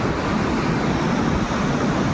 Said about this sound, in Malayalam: നല്ല നീരാവിയായിട്ട് ഇങ്ങനെ വെള്ളം അങ്ങനെ തെറിച്ചുകൊണ്ടേ ഇരിക്കുകയാണ്